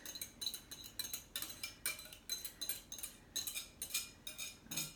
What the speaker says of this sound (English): So we'll just mix those liquid ingredients together